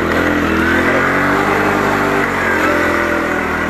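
A Honda CD 70 motorcycle engine labours loudly and steadily uphill, its revving drone close and continuous with dense harmonic buzz throughout, no voices over it, on a mountain road toward Mahodand Lake near Kalam.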